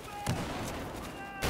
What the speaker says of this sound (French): Allez, une petite grenade par là-bas.